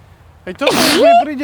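A single sharp sneeze bursts out loudly, followed at once by someone talking.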